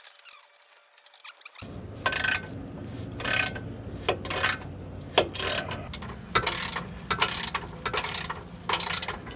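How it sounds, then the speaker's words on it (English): Ratchet wrench tightening skid plate bolts on a Ford Transit AWD, a run of close rapid clicking bursts separated by short pauses, following a quiet start. "we just got both bolts all tightened down on the front pinion plate here"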